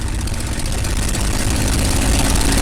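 A TF-51 (P-51) Mustang warbird's engine held at 2300 rpm with the brakes locked, giving a steady, loud, dense roar with a low throbbing drone that stays constant throughout.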